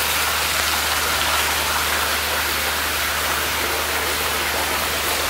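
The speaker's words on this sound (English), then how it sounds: "it's raining like absolute mad still." Heavy, steady rain pours down in a Malaysian rainforest at Mulu National Park, Sarawak, a constant dense hiss with a low rumble underneath, loud and unbroken throughout.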